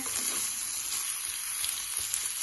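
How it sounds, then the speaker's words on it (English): Rice being stirred into a hot frying pan for SPAM fried rice, giving a steady, dense sizzle and crackle close up throughout, with no talking. "I'm gonna mix some of that rice in there."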